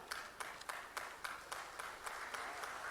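Applause from a crowd at a live government event, a steady wash of many hands clapping with some louder individual claps standing out, heard fairly far away and continuing evenly throughout.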